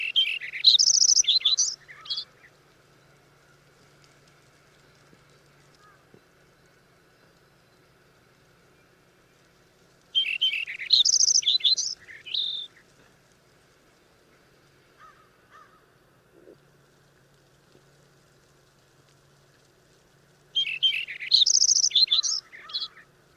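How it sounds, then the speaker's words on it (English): A Lincoln's sparrow sings in a high-altitude bog surrounded by black spruce, three bright bubbling phrases of about two seconds each, spaced roughly ten seconds apart, clear and close against a quiet background. "So that was Lincoln sparrow."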